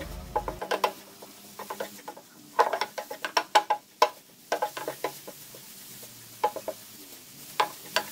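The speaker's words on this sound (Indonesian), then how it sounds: "Kita aduk-aduk terus ya teman-teman, hingga air gula meresap merata pada kelapa yang sudah kita gongseng" Toasted grated coconut is stirred through boiling sugar syrup in a pan, making irregular clacks and scrapes as the utensil hits the pan, with bursts of quick knocks and short pauses in between, close and clear, with no talking.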